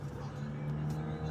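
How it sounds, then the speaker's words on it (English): Steady street traffic with cars passing by outside a drive-through, a continuous low engine rumble and hum close by with no talking. "That way y'all can watch the traffic."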